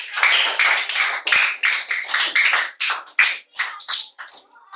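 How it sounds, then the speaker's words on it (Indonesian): A classroom of students claps rhythmically in unison for a classmate, a loud, close burst of synchronized hand claps that continues steadily with no talk. "Kasih tepuk tangan buat Kak Depan"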